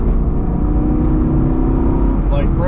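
A 6th-gen Camaro with BMR suspension drones loudly from inside the cabin as it accelerates on a cold road course, with a steady engine note under the driver's voice.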